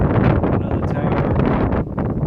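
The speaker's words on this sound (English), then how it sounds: "It's super friggin' windy." Strong, cold wind buffets the microphone outdoors beside a tower on a Vermont hiking trail, a loud continuous roar with gusty swells that stays steady throughout with only a brief dip near the end.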